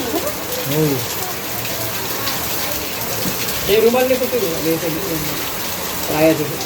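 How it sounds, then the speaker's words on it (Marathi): Heavy rain pours in a steady wash during a family festival outing, with children's voices and chatter rising over the downpour at intervals. "फुल पाऊस चालू आला."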